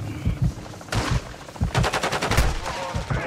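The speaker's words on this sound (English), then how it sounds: "I'm getting fucking shot by a lot of people." Rapid bursts of gunfire in a video game with the player under fire, loud repeated shots in quick clusters over a steady low rumble.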